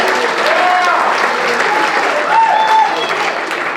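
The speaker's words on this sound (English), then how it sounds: "Let's also give a thunderous round of applause to Mandy for being our lovely MC." Thunderous applause fills a gala hall, loud and dense, with faint voices and a few whoops rising briefly above the sustained clapping.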